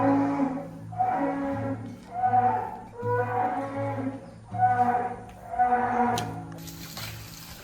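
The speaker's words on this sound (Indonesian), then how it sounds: "ini beberapa sapi-sapi di kandang Setia Farm. Sapi Limousin ini jenisnya." Small Limousin cattle in a pen at Setia Farm lowing repeatedly, about six drawn-out moos in steady succession, close and fairly loud, with a brief rustle at the end.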